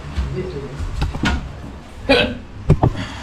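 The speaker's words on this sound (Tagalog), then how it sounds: "Ayun na, sininok na rin." A few short, sharp hiccups pop out among quiet background talk and rustling, close to the listener.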